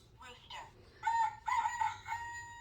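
A rooster crow plays from a button on a children's farm-animal sound book, a short recorded cock-a-doodle-doo preceded by a couple of clucks, fairly faint.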